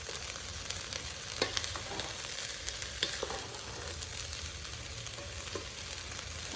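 Beef fried rice crackles and sizzles steadily in a hot pan while a spatula scrapes and taps at irregular intervals, close up with no voices.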